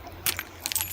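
Keys jangling in two short, bright metallic bursts, close and clear over quiet background hum.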